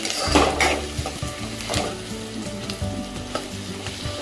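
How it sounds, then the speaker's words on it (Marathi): Onions softening in hot oil in a pot for chicken biryani hiss with a steady close sizzle, broken by spoon scrapes and stirring clatter that swell and fade in irregular bursts. "तर बघा आपला हा कांदा छान असा विरघळायला चालू झालेला आहे"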